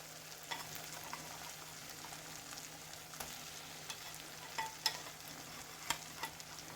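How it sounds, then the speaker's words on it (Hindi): Fried chicken pieces tipped into thickened Kashmiri-style gravy and stirred in a pan, producing a soft continuous sizzle with intermittent scrapes and clinks of the spoon, fairly quiet and close, with no voices. "अब इसमें हम डालेंगे चिकन जो हमने फ्राई करके रखा है।"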